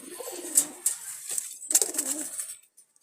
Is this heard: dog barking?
no